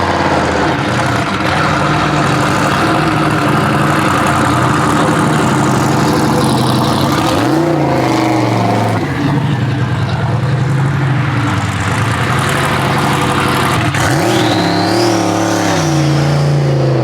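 Turbocharged stick-shift cars, a Fox Body Mustang and a K-swapped Civic, roar loudly on a dyno, revving up and down through gear changes in a steady, sustained engine drone with no voices.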